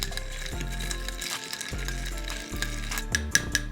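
Eggnog White Russian cocktail ingredients stirred together, with repeated clinking and scraping of a utensil against the glass in a steady rhythm, close and fairly loud.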